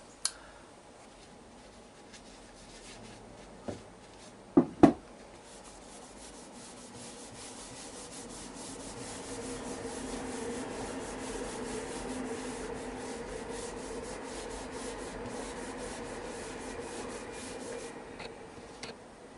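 Yorkshire Grit abrasive is worked by hand onto a brush-varnished segmented beech bowl: a soft, steady rubbing hiss builds and continues close by, preceded by a few faint clicks and taps.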